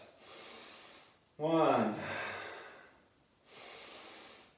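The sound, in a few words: deep breaths during exercise session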